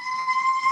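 A siren wails steadily in the background, a sustained high tone that holds throughout a very short moment with no other sound.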